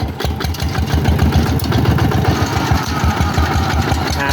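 A walk-behind farm tractor engine runs steadily in gear, a loud continuous low chugging with rapid regular knocking pulses, close by and alone.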